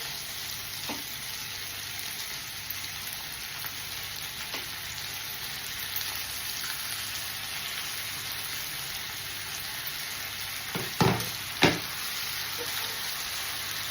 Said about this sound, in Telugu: చిక్కుడుకాయ ఫ్రై అవుతున్నాయి కదా